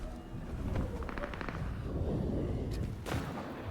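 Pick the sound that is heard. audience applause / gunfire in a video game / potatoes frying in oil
gunfire in a video game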